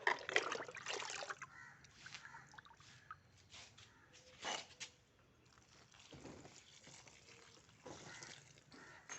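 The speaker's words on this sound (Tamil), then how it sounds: "ஒவ்வொரு செடிக்கும் இந்த கப்புக்கு ஒரு கப்பு ஊற்ற போகிறேன்." Filtered water poured from a cup onto potted plants, a soft, faint trickle and splash in short bursts with quiet gaps between.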